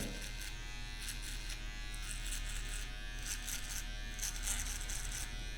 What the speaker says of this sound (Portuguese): agora a gente vai usar a máquina de acabamento aqui na parte de baixo